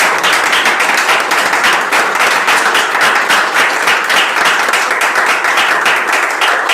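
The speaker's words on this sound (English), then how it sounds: "join me in a round of applause for our gratitude" Loud, sustained applause from an audience at a thesis symposium, many hands clapping in a dense, even roar that holds without a break from start to finish.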